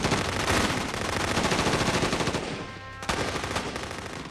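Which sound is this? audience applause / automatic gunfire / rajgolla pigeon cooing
automatic gunfire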